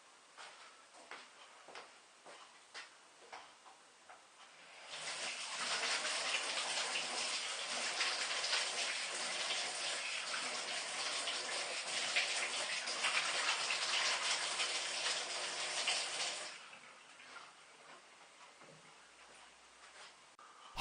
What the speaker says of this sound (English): I'll go wash my hands.